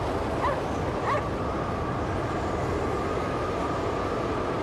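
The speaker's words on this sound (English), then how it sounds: "Let's follow the dog." A dog in the video game Cryostasis gives a couple of short yips or barks early on over a steady, loud rumbling ambience, distant and fairly faint.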